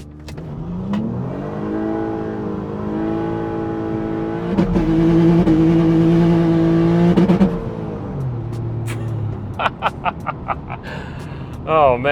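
Turbocharged V6 Honda Accord with an open differential accelerating hard on a road, engine note climbing steadily through the revs and swelling louder midway before easing back; someone talks excitedly near the end.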